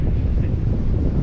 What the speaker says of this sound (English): And there's the wind pushing me along again.